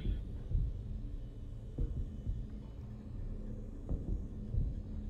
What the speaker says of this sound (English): The game's like acting weird, giving me heartbeat sounds.